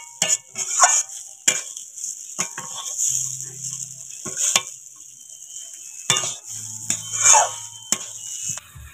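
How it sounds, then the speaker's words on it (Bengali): Broken wheat (dalia) being stirred and sautéed in a pan, with repeated scraping strokes and short clatters of a utensil against the metal over a steady, moderate sizzle, close and clear with no talking. "একটু কষিয়ে নেব নাড়াচাড়া করে,"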